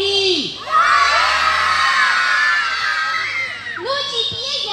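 A crowd of children at a summer festival in Ilovaysk shouts loudly together on cue, a sustained roaring mass of young voices lasting around three seconds, close and intense, with brief adult speech at the start and end.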